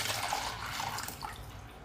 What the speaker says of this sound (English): Now I have a strainer over a big bowl, and I'm gonna just go ahead and pour in my coffee that I made.